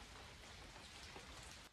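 Dense, steady pattering of droplets falling from trees as a thick mist condenses on them, sounding just like continuous light rain, soft and even throughout.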